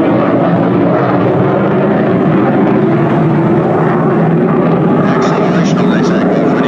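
Propeller aircraft flying a series of very tight aerobatic turns in a mock dogfight at the 2019 Teignmouth Airshow, a steady loud engine roar filling the whole stretch with crowd noise and a voice talking over it.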